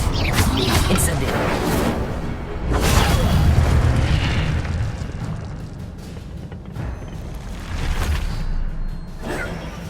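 Incendio fire spell cast in Hogwarts Legacy on PS5, loud booming whooshes of flame bursting several times amid continuous dense combat noise, with some voices mixed in.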